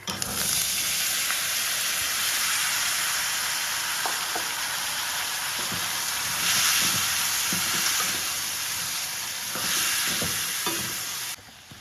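Boiled cowpeas (karamani) tossed and stir-fried in a pan with asafoetida, a steady loud hiss of frying with occasional spoon scrapes and swells of sizzle, no voices.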